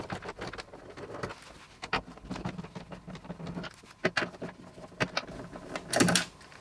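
A PH2 screwdriver backs out machine screws from a TV wall mount on an LG OLED C4, giving a close series of irregular ticks, scrapes and clicks, with a louder rattle near the end.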